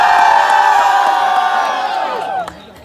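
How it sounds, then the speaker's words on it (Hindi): A wedding audience shouting and cheering together in a loud, sustained roar of whoops and yells that swells, holds for about two seconds, then fades out. "वो लोग जोधा चिल्ला कर दिखाएंगे जिन्हें लगता है कि शिखा जी लकी है जिन्हें प्रणव जैसे लाइफ पार्टनर मिले हैं।"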